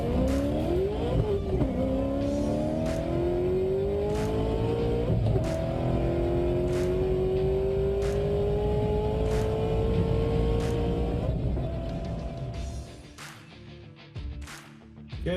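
Cars race together, a Porsche Carrera among them, with engines whining and climbing through the gears at close range, a sustained loud roar that fades near the end into scattered clatter.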